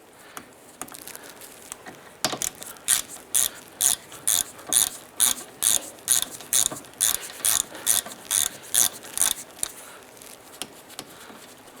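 A ratchet wrench working the brake caliper slide bolt on the rear brakes of a 2006–2010 Honda Civic, giving a steady run of about twenty sharp, close clicking bursts in an even rhythm after a quiet start.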